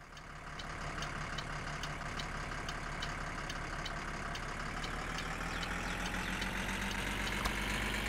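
A motorhome engine running in the driving game My Summer Car, a steady low idling drone that holds evenly throughout at a modest level, with a faint ticking texture above it.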